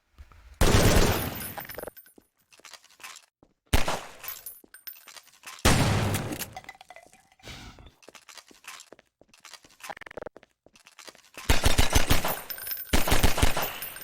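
Pistol gunfire in the Half-Life 2 beta video game: several loud bursts of game shots with sharp broadband cracks, separated by quieter gaps, with a dense rapid cluster near the end.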